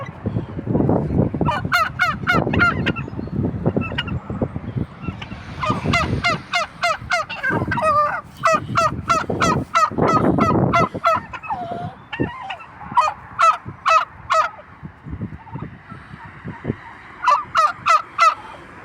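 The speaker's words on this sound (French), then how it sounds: "Il y a des canards, il y a des oies, je crois que c'est des dindons, ça, non?" A group of turkeys, among ducks and geese, gobble in repeated rapid bursts across nearly twenty seconds, fairly close, with scattered honks and clucks between the calls and no speech.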